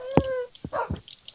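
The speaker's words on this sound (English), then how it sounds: "Whoa, who's hitting my dogs?" Tamed dogs in the game Minecraft whimper and yelp when struck, giving a short high whine followed by a few quick yips at close range, with no speech.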